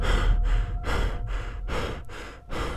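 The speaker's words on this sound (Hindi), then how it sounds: "सिर्फ दीवार से आती धीमी सांसों की आवाज रह गई।" Slow, deep breaths in a dark, still room, about six long airy inhales and exhales in a steady rhythm, close and fairly loud with nothing else around them.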